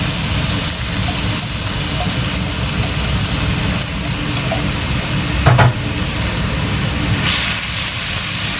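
Ground spices sizzle and crackle in a hot, thin-bottomed frying pan over high heat while making veg fried rice, a steady close frying hiss throughout with a brief louder spatter partway.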